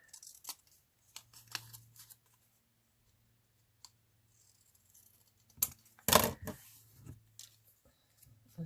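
Paper card being cut down for a handmade card project, scattered snips and rustles with a louder burst of cutting near the end, close and intermittent with quiet gaps, no talking.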